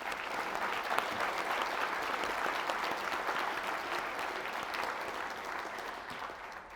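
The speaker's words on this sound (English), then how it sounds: "And if we can just give them a round of applause" Conference audience applauds the speakers, a steady, fairly distant wash of clapping lasting several seconds and tapering slightly at the end, with no speech over it.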